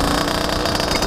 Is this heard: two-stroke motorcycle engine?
yes